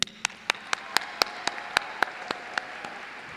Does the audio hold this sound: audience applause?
yes